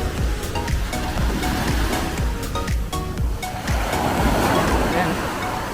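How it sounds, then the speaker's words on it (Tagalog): Strong ocean waves wash steadily onto a beach in the Britania Islands, Surigao del Sur, as a loud, continuous rushing roar with people talking over it. "Lakas na ng alon."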